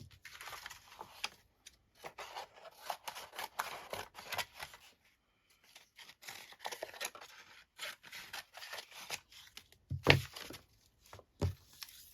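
Scissors rough-cutting paper pieces, napkin, book page and brown paper bag, for embossed tags: irregular close snips and paper rustles in uneven bursts with brief pauses, one sharper clack near the end.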